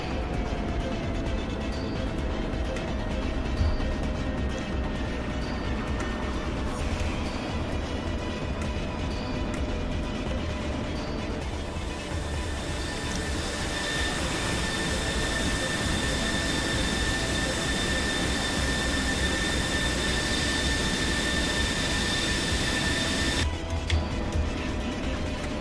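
Jet engine roaring steadily through a short takeoff in a video game, a continuous loud broadband rush with a thin whine layered on top, holding level from start to finish with no voices.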